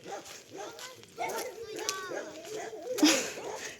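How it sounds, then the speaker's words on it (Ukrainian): A dog barks from inside a fenced enclosure, a few short yips and barks close by, mixed with people talking nearby. "в загорозі собака"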